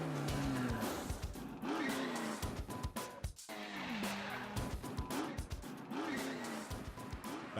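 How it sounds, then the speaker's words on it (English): A NASCAR driver's beater street car revs hard with tire squeal and skidding, engine rising and falling in repeated bursts with a brief cutoff midway, loud and close and heard on its own. "Back on MRN Out Loud with Tyler Reddick's beater car revving up in the background as we go."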